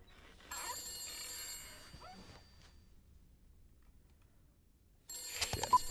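A ringing telephone in the horror video game The Beast Inside, heard as two bursts of electronic bell tone, one long near the start and a second ring near the end, with quiet room ambience between them.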